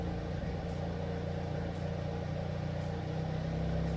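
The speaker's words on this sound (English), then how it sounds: "First, start the car and let it warm up for about 5 minutes just to get the oil warm." A 2019 Hyundai Veloster N engine idles while warming up, giving a steady, close, even drone with a faint mechanical hum and no revving.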